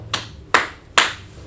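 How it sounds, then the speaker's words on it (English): An audience claps hands in three distinct, evenly spaced sharp bursts, each a brief crisp smack with a short decay, close and clear against a quiet background. "Clap it up for them, right?"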